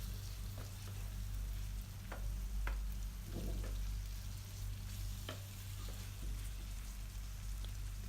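Chicken sautés with onions in a pan for a pepper chicken, a steady soft sizzle broken by occasional scraping stirs and light clicks.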